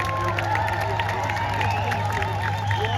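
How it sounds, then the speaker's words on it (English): A crowd at a big-car demolition derby clapping and cheering, a dense roar of applause and shouts over a steady low engine hum. "Give him a round of applause"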